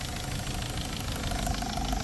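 A 2010 Nissan Tiida with a 1.6 engine and automatic gearbox, converted to run on gas, idles steadily with a close, even engine hum and faint ticking from the gas injectors, no talk.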